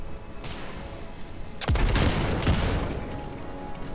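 A grenade blast in Destiny 2 sets off a loud, sudden boom with a long, crackling rumble that trails away over steady game background noise.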